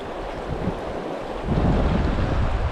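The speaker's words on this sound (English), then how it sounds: "Man, that upstream wind is a killer." Upstream wind gusts over a central Pennsylvania trout stream, rushing into the microphone as a broad roar that swells louder halfway through, with no voices.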